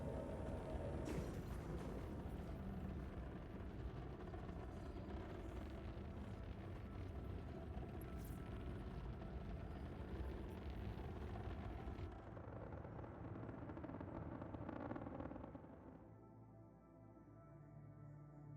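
A spaceship cruises in the space game Star Citizen, giving off a loud, steady engine roar that dips partway through and then drops to a quieter low hum near the end.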